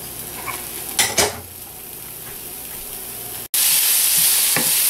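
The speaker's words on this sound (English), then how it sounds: "And cook vegetables until onion becomes clear." Onion, carrot and cucumber stir-fried in a pan for natto fried rice: a steady sizzle with two sharp utensil clanks early on, a brief drop to silence, then a louder, brighter sizzle resumes.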